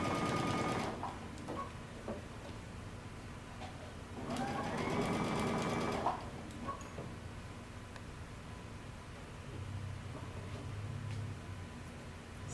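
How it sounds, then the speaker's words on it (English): A sewing machine stitches a coat lining seam, running in short bursts with pauses between them, close up and moderately quiet. "We're going to sew all the way around this."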